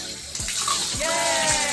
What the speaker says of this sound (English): Okay, so I turned on the water.